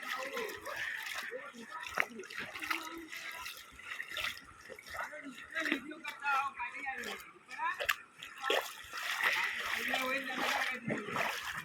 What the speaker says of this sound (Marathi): हे बघा पूर्ण ब्रिज वरून पाणी चाललंय